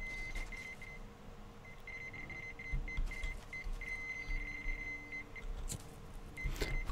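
Repeated electronic beeping somewhere in Metro Exodus: a thin, steady high tone pulses in short runs and sustained stretches at moderate distance over a faint ambient hum, with occasional clicks and footstep-like thumps.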